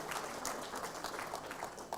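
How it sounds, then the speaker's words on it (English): An audience at an examination results announcement gives a round of applause for parents, a steady wash of many hands clapping together, moderately loud and continuous without pauses. "Give a round of applause"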